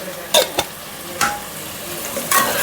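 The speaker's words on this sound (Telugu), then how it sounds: "వేసినాక బాగా కలిపి" Spoon stirring cumin powder into a sizzling mutton curry in a pot, Andhra style, with a few sharp scraping clinks over a steady frying hiss.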